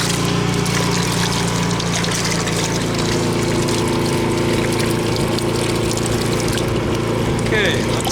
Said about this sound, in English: shut off the pumps